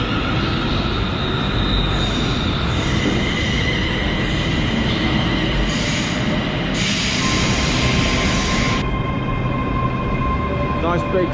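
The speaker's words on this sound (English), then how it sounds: "Nice big 6-car train" A six-car passenger train at Wemyss Bay station rumbles steadily throughout, with high metallic wheel squeals and brake hiss rising in bursts over the continuous low rolling noise.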